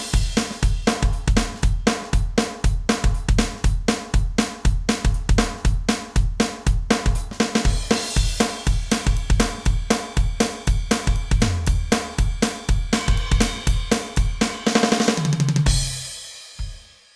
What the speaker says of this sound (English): playing with an upbeat gospel kind of feel